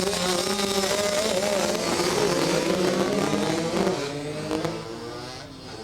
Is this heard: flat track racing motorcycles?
yes